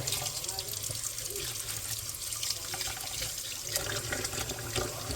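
Lukewarm tap water runs into a bowl of green lentils, giving a steady, soft splashing stream that is close and continuous throughout.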